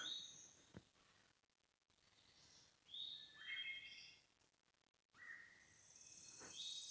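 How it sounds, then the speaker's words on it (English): Faint, scattered bird chirps and short calls at a distance over a quiet outdoor background in Daniel Boone National Forest, Kentucky, with gaps of near silence between them. "Just listen to the birds chirp."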